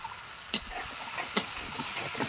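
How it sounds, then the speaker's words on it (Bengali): Onion paste, green chillies and spices sizzling in a hot pan for a pangas fish curry, a soft steady frying hiss with a couple of light clicks from stirring, close up and without speech. "এবার একসাথে এই মশলাগুলো ভালো করে কষিয়ে নেব"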